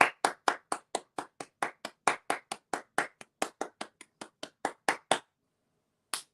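A single person claps hands in a steady run of about twenty sharp, close claps that keep an even rhythm. After a short silence, one last clap lands on its own.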